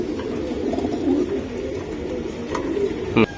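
Racing pigeons coo nearby in continuous low throaty burbles, loud and close, with a few short clicks and rustles breaking in toward the end.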